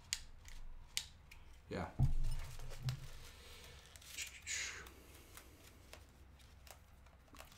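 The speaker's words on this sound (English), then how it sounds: "That's a good test of the filament sensor. You heard the click." Filament sensor on a Prusa Mini 3D printer gives a few quiet clicks and plastic taps as filament slides in, with handling noise and a brief spoken word nearby.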